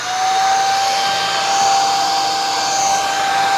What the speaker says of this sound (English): Now it's a normal vacuum cleaner. Let's go over the operation again, turn it on.